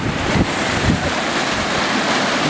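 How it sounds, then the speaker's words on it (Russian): Steady rushing, splashing water from a small hot spring waterfall in Bolivia fills the whole stretch, a broad continuous wash with a couple of slightly louder surges, close by and unbroken. "Здесь водопадик горячей воды."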